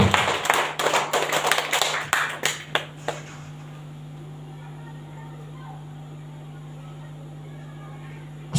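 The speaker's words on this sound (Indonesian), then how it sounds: "Iya, tepuk tangan dulu." A room of people at a school gathering claps to welcome a new teacher, a quick burst of fairly close, uneven hand claps lasting about three seconds before it stops and a steady low hum remains.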